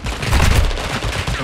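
Gunfire in the video game Warzone 2.0, a loud dense burst of rapid shots in a sustained volley, close and filling the whole moment with no talk over it.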